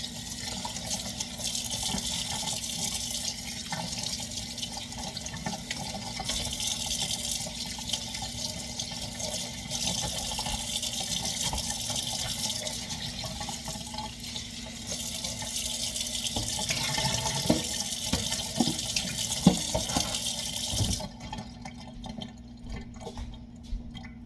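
Cool tap water runs steadily into a container to rinse defrosted pork chops, a continuous close splashing stream in a kitchen that stops near the end, with no talk.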